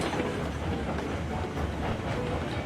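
Heisler locomotive rolling on rails in Railroads Online, a soft continuous rumble with faint rhythmic wheel clatter, low in level and heard alone.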